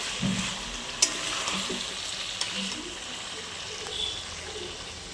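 Ginger and garlic paste sizzling in a pan as it is stirred and mixed, a steady hiss with a few sharp clicks and scrapes from the stirring.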